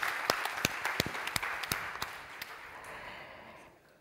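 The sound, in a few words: audience applauding workshop participants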